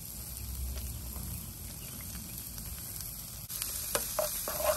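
Two small onions fry in butter in a pan over medium heat with a steady, soft sizzle, and a few stirring clinks come near the end.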